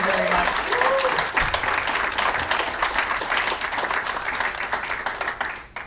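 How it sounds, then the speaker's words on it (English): A full audience round of applause at the closing of a Pacific workshop, dense and steady for several seconds before tapering off at the end, with a voice briefly audible near the start. "So I would like to give them a round of applause."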